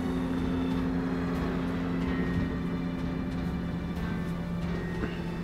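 A helicopter in the video game GTA 5 drones with a steady low engine hum and faint tonal whine, running continuously at moderate distance with no speech.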